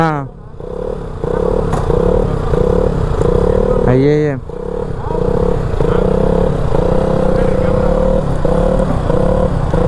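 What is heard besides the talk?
motorcycle engine revving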